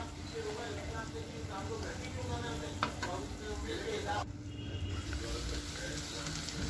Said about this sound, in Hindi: फिर ढक्कन हटा के हम इसको अच्छी तरह से चला रहे हैं।